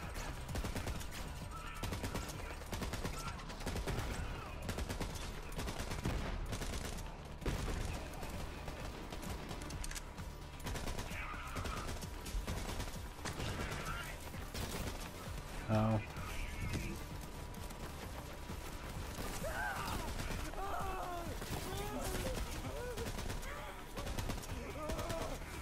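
Rapid bursts of gunfire in the video game Borderlands 3, repeated shots and overlapping volleys running throughout under game effects, with players talking over the action.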